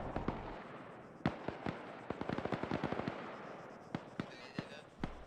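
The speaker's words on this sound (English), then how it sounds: "you can hear gunfire close" Gunfire in the military shooter Arma: sharp shots crack out singly and in rapid bursts at varying distances, some close, others faint and far off, over a quiet background.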